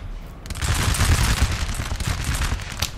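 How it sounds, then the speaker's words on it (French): Battle din in Napoleon: Total War, with continuous rumbling volleys of cannon and musket fire merging into a dense, roaring wall of sound that starts abruptly and stays loud throughout. "Au bruit, au son du canon,"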